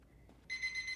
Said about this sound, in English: You'll hear the timer ding, I hope